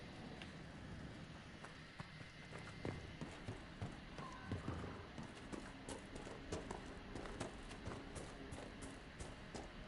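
Horse hooves clip-clop steadily in Dragon Age: Inquisition, a soft continuous trotting rhythm at low volume over ambient background noise.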